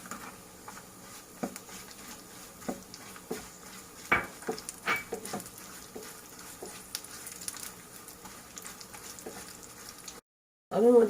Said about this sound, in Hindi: उसके बाद मैं इसमें किशमिश भी डालूंगी फ्राई करने के लिए